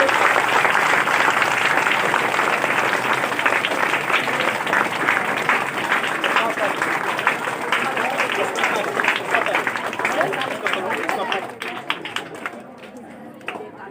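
Children clapping at an Independence Day flag hoisting at a school, a dense, continuous round of applause held at full strength for most of the clip before thinning out near the end.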